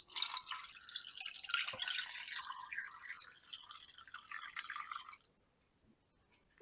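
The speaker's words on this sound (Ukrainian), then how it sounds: "Все це заливаю півтора літри води." Filtered water poured into a pot over chicken drumsticks, bay leaf and allspice for broth, a continuous close splashing stream lasting about five seconds before stopping abruptly into near silence.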